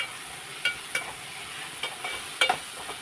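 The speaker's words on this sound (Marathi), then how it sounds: "तेलामध्ये परतून घेते टमाटर" Tomatoes frying in oil in a pan for a Maharashtrian kalvan, giving a steady soft sizzle with a few clinks of a stirring spoon against the pan, close and with no voice over it.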